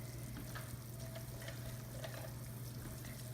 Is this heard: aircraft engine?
no